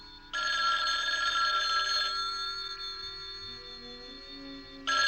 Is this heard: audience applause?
no